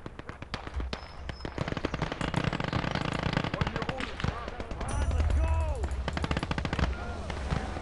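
Machine gun fire in a World War II strategy game battle, a Browning gun rattling in rapid bursts among other shots and explosions, loud and dense with speech over the combat.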